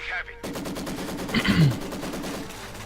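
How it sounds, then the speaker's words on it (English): A Maxim machine gun in Company of Heroes 2 fires rapid bursts in a real-time strategy battle, loud and fast-repeating, with gunfire continuing for the whole short stretch. "Grenadiers not having much luck versus this Maxim machine gun."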